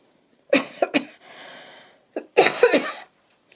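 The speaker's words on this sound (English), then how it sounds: "Sorry about the intermittent coughing." Several harsh coughs close to the microphone in two bursts, with a drawn, raspy breath between them.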